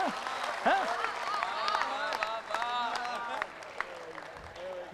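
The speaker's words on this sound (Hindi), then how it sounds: "तालियां थोड़ी कम है आपके।" Modest applause from an audience at a Hindi poetry recital during a Maharana Pratap Jayanti event, scattered clapping under a voice and other voices, with the clapping fading out toward the end.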